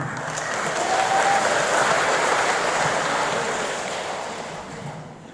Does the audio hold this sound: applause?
yes